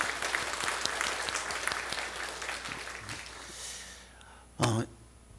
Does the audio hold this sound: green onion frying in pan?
no